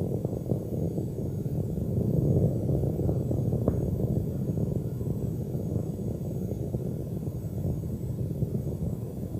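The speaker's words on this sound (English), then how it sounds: "Three engines on board now throttled down to two-thirds throttle to prepare the spacecraft to pass through the area of maximum aerodynamic pressure" Space Shuttle Endeavour's engines during the STS-88 launch ascent rumble as a steady, distant, low roar, constant for the whole stretch with no voices over it.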